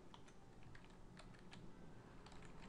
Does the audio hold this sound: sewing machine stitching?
no